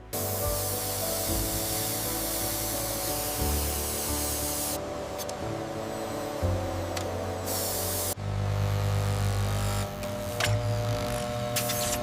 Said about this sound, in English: The gold case is precision machined on a 5-axis CNC center.